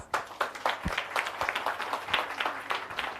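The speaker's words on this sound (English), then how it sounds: "I think that calls for a big round of applause." Applause from the audience at a live televised panel discussion on stalking, a dense crowd clatter of claps with scattered sharper hand strikes, moderately loud and steady throughout without talk.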